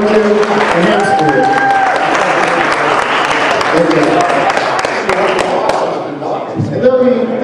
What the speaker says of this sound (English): How about a round of applause for Tom and Jim and Hamster?